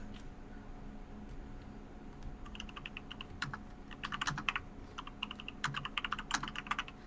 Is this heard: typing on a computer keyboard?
yes